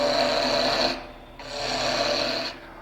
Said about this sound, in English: we're just going to take a gouge and take the corners off